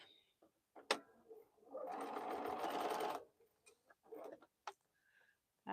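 A home sewing machine runs a quick burst of stitching on a quilt for about a second, close and clear, framed by soft clicks and handling taps before and after.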